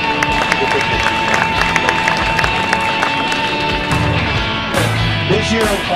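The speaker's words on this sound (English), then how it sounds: "Big round of applause for Christine." Crowd applause at a charity ranch run event, a dense steady patter of clapping with scattered cheers filling the whole stretch, fairly loud and continuous, with some voices mixed in toward the end.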